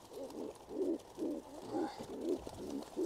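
Pigeons in a coop coo in a steady series of soft, rounded low calls, about five or six phrases repeating evenly over a few seconds, close by with no talking.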